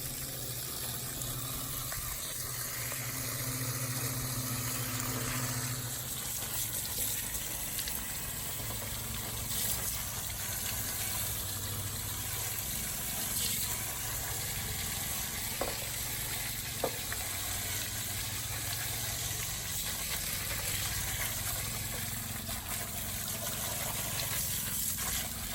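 Detergent water sprayed from a garden sprayer rinses a bus radiator's fins, a steady hissing, splashing wash that continues close and fairly loud throughout with no talk.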